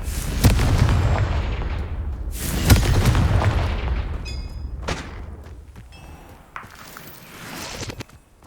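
The Confringo blasting spell goes off in the Hogwarts Legacy video game, two heavy booming blasts followed by rumbling debris and fading echoes, with faint chimes and thuds afterward.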